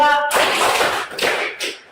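A class claps hands together in a rhythmic counted pattern, with bursts of group clapping and a voice calling counts alongside.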